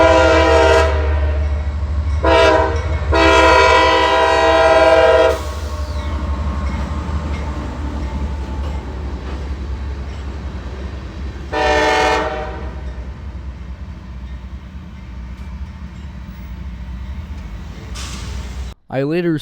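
Passenger train L772 sounds several loud, harmonic horn blasts, two close together, then a long one and another later, over a steady low rumble of the train passing close by, with talk briefly present.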